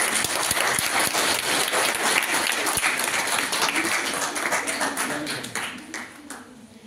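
Audience at a quiz competition claps with sustained, dense applause that stays strong for several seconds before thinning out and fading near the end.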